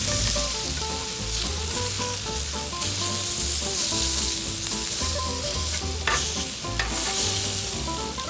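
Scallops searing on a Blackstone griddle, a loud, steady sizzle and hiss throughout, over a melodic music background.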